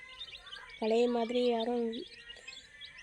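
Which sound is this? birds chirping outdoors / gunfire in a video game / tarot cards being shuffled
birds chirping outdoors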